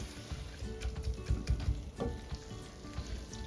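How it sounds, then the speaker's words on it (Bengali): Aubergines sizzle steadily as they are stirred into frying tomato and spices for begun bharta, with scraping stir strokes over continuous frying crackle, close and moderately loud. "ঢেলে দেওয়ার পর এই যে আমার টমেটো এবং স্পাইসের সাথে এগুলোকে স্লোলি মিক্স করব"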